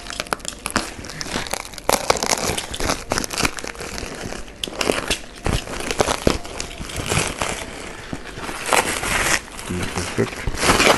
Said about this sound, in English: Just cutting out the carton